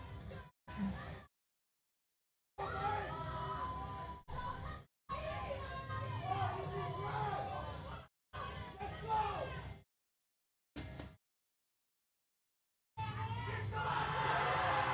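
A powerlifting meet crowd yells and cheers for a lifter in loud bursts separated by silent gaps, with shouted voices and babble rising and falling.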